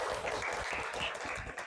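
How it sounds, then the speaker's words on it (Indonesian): A room full of people claps steadily for a couple of seconds, a dense, even patter of applause for three presenters at a university session. "Sekali lagi beri tepuk tangan untuk mereka bertiga."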